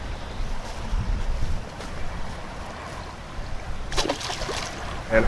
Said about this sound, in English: Wind's blasting here like crazy.